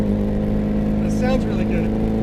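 A Saab Sonett sports car engine drones steadily under load from inside the cabin while driving, a constant mid-pitched hum with a voice speaking briefly over it.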